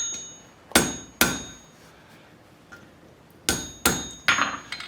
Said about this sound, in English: those ends need to be bent a little bit further back. So I'll do that over the edge of the anvil